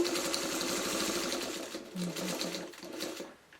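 Sewing machine quilting thin lines on an orphan-block pot holder, a steady fast close-up needle chatter that pauses briefly, restarts, and winds down near the end.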